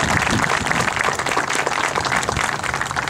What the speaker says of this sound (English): I really would like to give them a big round of applause